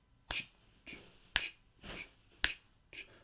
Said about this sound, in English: let's go ahead and clap the rhythm